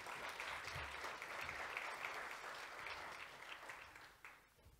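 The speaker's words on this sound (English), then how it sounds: "Let's give him a huge round of applause" Audience applause for PWC Namibia's tax partner Johan Nel at a mid-year budget speech event: a dense, steady wash of many hands clapping together, holding loud and even before thinning slightly toward the end.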